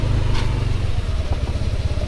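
A Yamaha NMAX scooter's engine struggles along a rocky mountain road, a steady loud low drone with rattling clatter from the rough surface, close and continuous with no talking.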